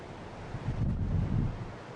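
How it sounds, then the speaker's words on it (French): Strong wind buffets the microphone on the windswept headland of Cabo da Roca, Portugal, mainland Europe's westernmost point, with surf rolling below; gusts swell through the middle and ease off, with no voices. "on atteint le Cabo de Roca, balayé par les vents, le point le plus occidental de l'Europe"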